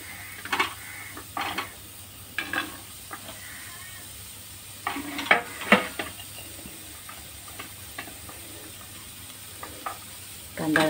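Onion frying in a pan for a clams masala, a low steady sizzle with intermittent stirring scrapes and clinks, fairly close and quiet.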